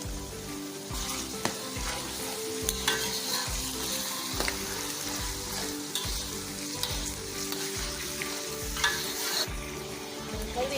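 Onions with green chilies and ginger garlic paste fry in a pan for chicken biryani, a soft continuous sizzle with a spoon scraping and stirring in a steady repeating rhythm.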